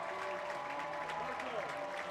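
A stadium crowd roars and applauds after a grand slam at an Arizona State college softball game against Oregon State, a dense, steady wash of cheering with a voice faintly over it.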